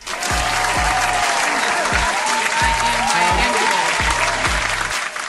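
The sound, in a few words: audience applause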